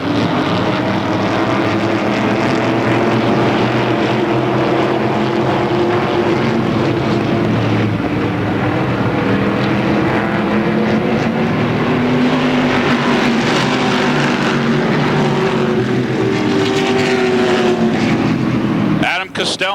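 Race cars lapping Motordrome Speedway in a steady, dense engine roar with shifting whining tones that lasts throughout, while a commentator talks over it.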